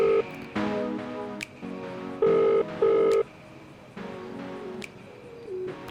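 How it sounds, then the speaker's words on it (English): Phone ringing in CADvanced emergency dispatch simulation software, a series of electronic tone bursts in an uneven on-off pattern, clear and fairly close with no talking. "And now it's ringing, and the number of times it rings varies as well."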